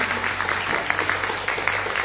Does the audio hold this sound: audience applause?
yes